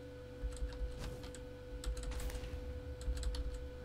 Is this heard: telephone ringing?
no